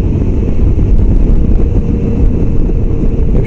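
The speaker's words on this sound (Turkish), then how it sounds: "Aşırı derecede bir rüzgar var." Strong wind roars and buffets the microphone in a dense, constant low rumble during a motorcycle ride, loud and unbroken throughout.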